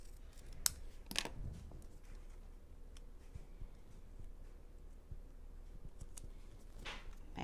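Scissors trim a Christmas card embellishment, giving a few crisp, close snips near the start and another toward the end, with quiet handling noise in between.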